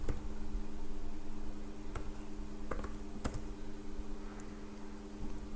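Soft, scattered clicks of typing on a computer keyboard while entering a SQL delete query, irregular keystrokes over a steady electrical hum, with no one talking.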